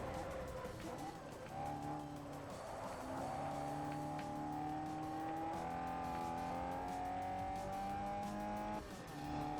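In Forza Motorsport 4, a race car's engine howls and shifts pitch under braking, with tires scrubbing and skidding across grass, loud and continuous throughout.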